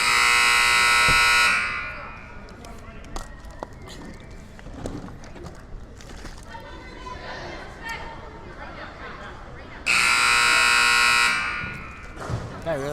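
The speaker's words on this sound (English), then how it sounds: "He does like his buzzer over there." A scoreboard buzzer sounds at a girls' varsity high school basketball game. It gives two long, loud blasts several seconds apart, with commentators talking in between.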